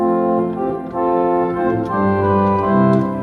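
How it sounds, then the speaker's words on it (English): A steady pipe organ diapason stop sustaining rich harmonic notes, loud and full, with a chord shift midway and no talking. "So over here we've got the three main diapasons."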